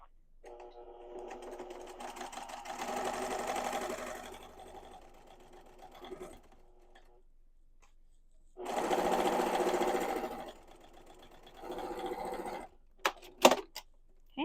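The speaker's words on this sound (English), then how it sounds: "you're going to take it to your sewing machine" A domestic sewing machine stitches along a fabric sleeve edge to form an elastic casing, running in two sustained bursts with a quieter pause between them and a short, softer run afterward, ending in a few sharp clicks.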